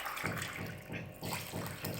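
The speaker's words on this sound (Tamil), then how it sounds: "டம்ளர் தண்ணி ஊற்றி இப்போதைக்கு ஊற வைக்கிறேன்" Water is poured into soaking rice in uneven, splashing surges, close by and fairly soft, with no voices.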